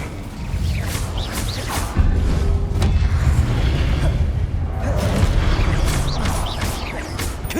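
Incendio fire spell hurled in a Hogwarts Legacy boss fight: a sustained roaring, crackling burst with a sharp impact about two seconds in, then continuous rumbling blaze dotted with quick pops and clanking hits.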